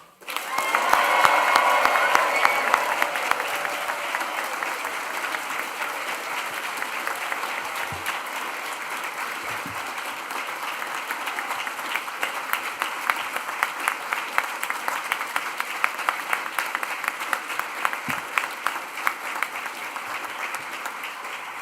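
Graduates at a university graduation ceremony are met with loud, sustained applause from a large crowd, clapping steady throughout with faint cheering near the start.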